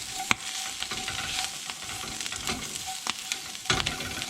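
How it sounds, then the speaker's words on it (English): Kohlrabi greens and garlic fry in a pan with a steady, close sizzle and scattered sharp pops and clicks of stirring throughout, no voices. "So you can see the greens are cooking down."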